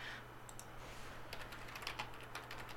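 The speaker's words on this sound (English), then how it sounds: "Simply do a search, drop vert, hit enter, and there it is." Keyboard typing while a search is entered in SketchUp's extension store, a brief burst of close, quick key clicks over a steady low hum.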